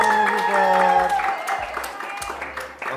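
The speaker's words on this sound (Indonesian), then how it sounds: "Boleh tepuk tangannya, teman-teman support." Audience applause at a film event, a steady wash of clapping loud and close with tonal voices or music layered over it, fading slightly toward the end.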